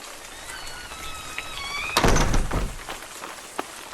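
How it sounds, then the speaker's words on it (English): Heavy rain pours down in a steady broadband hiss, swelling into a louder burst with a dull thunk partway through, for an audiobook scene of a dash through pouring rain to a tent. "The 2 darted out of the treasure hut and dashed through the pouring rain to get back to Marco's tent"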